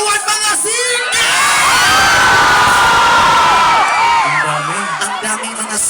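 A big concert crowd in Bataraza, Palawan screams, cheers and shouts loudly and without a break, a dense wall of voices that starts suddenly, swells and then fades slightly as a few musical tones rise near the end.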